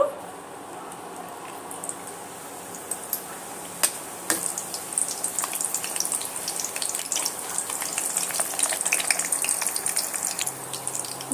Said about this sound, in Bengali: ঘি আর তেলটা গরম হয়ে গেছে এর মধ্যে আমি যে পরোটাগুলো আমি তৈরি করে রেখেছিলাম আমি এর মধ্যে দিয়ে এবার ভেজে নেব